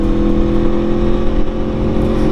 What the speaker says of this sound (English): Let me bring it up to higher RPMs just a little.